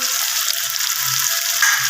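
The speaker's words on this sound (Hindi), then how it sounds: "अब हम इसके अंदर ऐड करेंगे दही, जो कि मैंने 2 टेबलस्पून दही लिया है, ये ऐड कर देंगे।" Two tablespoons of yogurt go into well-roasted spices for chicken liver masala in a pan, giving a steady, bright hiss and sizzle that holds for two seconds, close and with no voice.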